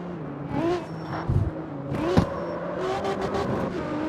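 A car engine revs hard in the CarX Street racing game, with rising and falling throttle sweeps and a few sharp bursts, loud and close, with no voices.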